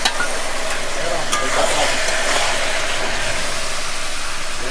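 Jackfruit curry with chopped tomato and spices sizzles and fries steadily in a pan, a continuous close hiss with occasional stirring scrapes.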